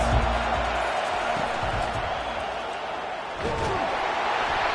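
A home crowd roars at a football game, a steady wall of cheering and noise from the stands that surges louder near the end, with a few thumps early on.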